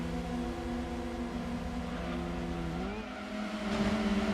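A Lancia Ypsilon in Gran Turismo 2 hums along with a steady, buzzy engine tone that shifts pitch once as it changes gear, then revs up again near the end, with no talk over it.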